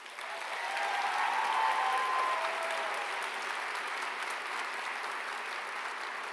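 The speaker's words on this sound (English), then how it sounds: "Let's have a final round of applause for them." Sustained applause from a large audience at a university fine arts spring convocation, honoring outstanding graduate awardees; dense, steady clapping that swells in the first two seconds and then holds at a slightly lower, even level, with no voices.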